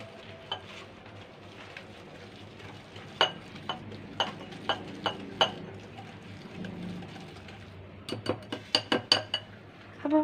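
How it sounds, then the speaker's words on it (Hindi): Icing sugar stirred into zeera cookie dough in a bowl: a soft scraping and mixing bed with a run of quick clinks and taps of utensil on bowl, close by, with no speech. "अब हम ऐड करेंगे आइसिंग शुगर, मिक्स कर लेंगे इसी तरह से"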